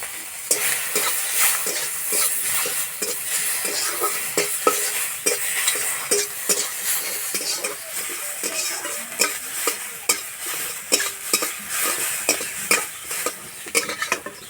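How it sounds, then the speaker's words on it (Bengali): Fish fat and offal sizzle and crackle steadily in a hot pan, with a utensil stirring and scraping through the oil in frequent sharp clicks over a dense, continuous hiss. "প্রথমে মাছের তেল কাটা ভেজে নেব"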